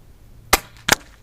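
A UX Notos PCP air rifle fires two sharp, close shots about a third of a second apart over a quiet background, each a crisp snap.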